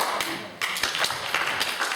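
Hand clapping from an audience at a 2010 Michigan town hall meeting with Congressman Tim Walberg, a brief burst of scattered claps and taps lasting about two seconds, fairly close and loud.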